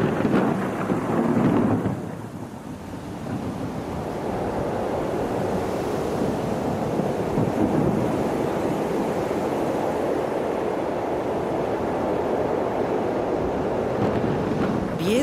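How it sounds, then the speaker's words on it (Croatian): A thunderstorm over the sea at night near Cavtat, with rumbling thunder, wind and crashing surf merging into a dense, loud, continuous roar that swells near the start and then holds steady without pause. "Grmljavina je razljutila nebo, oluja je podigla valove, spojilo se more s nebesima."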